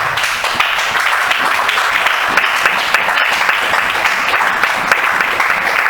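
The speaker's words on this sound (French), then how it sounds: "acclame pour la parole de Dieu" Sustained congregational applause at a church gathering, loud and dense clapping from a crowd continuing steadily for several seconds without talk.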